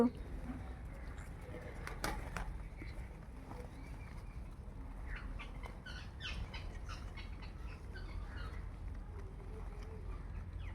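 Soft pigeon coos repeat in the background over low outdoor rumble and scattered noises, fairly faint and steady throughout.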